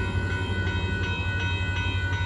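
Northbound Union Pacific mixed freight train at Dittmar Road in Austin, Texas, approaching with a loud, steady low rumble and sustained engine drone plus faint recurring rail clicks, heard alone without talk.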